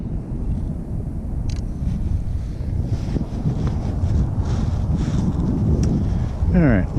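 Wind buffets a microphone outdoors beside a pond in Maine on a bass fishing trip, a loud, continuous low rumble with gusty swells throughout and a few faint higher clicks and chirps above it.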